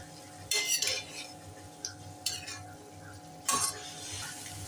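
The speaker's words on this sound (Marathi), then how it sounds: "आता 1-2 मिनिटं परतून याच्यातलं पाणी पूर्णपणे आटवून घेऊया" Sprouted matki being stirred and sautéed in a pan over higher heat, three or four scraping, clinking bursts of a spatula against metal over a faint steady sizzle.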